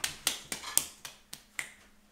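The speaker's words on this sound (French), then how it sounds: "On applaudit Mathis pour son gâteau." Sparse, slow clapping for a three-year-old boy's homemade cake in a home kitchen, about seven separate claps in a loose rhythm, fairly quiet and close.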